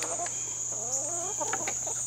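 Pet chickens cluck nearby in a short series of warbling, rising calls, set against a steady high-pitched background hiss and a low hum.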